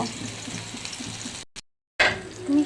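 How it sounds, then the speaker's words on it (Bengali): Pumpkin pieces fry in hot oil over medium-low heat, a close, steady sizzle that cuts out briefly for a moment of silence, then returns just as strongly. "এটাকে মিডিয়াম লো হিটে মিষ্টি কুমড়াগুলোকে ভেজে নেব"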